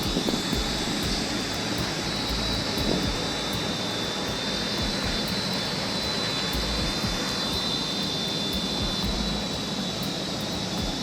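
An old Avro 504K aircraft engine runs steadily, a dense continuous roar with a faint high whine, holding an even level throughout with no voices.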